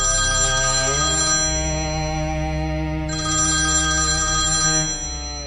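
A mobile phone ringtone rings loudly in a movie theater, a steady electronic tune repeating in two bursts with a short dip between them, with no talk over it.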